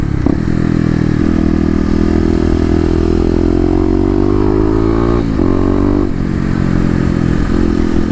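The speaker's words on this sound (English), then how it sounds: "the Mega Bomb gave the Q4 a little bit of a kind of a deeper sound" Kawasaki KLX250 motorcycle fitted with a Mega Bomb header, 2018 model with stage 1 mods, its engine running loud and close with a deep steady drone that rises in pitch as it revs, with brief dips at shifts.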